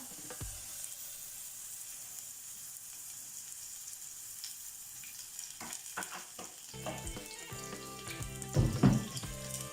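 White onions frying in oil in a pan make a steady soft sizzle, with a few clinks and stirring sounds growing louder toward the end.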